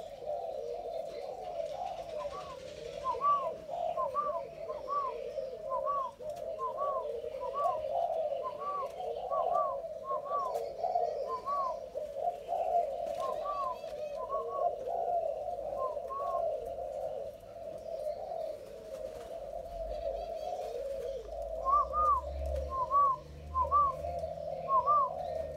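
Malaysian spotted dove cooing in a steady repeated series of soft phrases, close and clear, pausing briefly mid-way before resuming, with a low background hum and no talking.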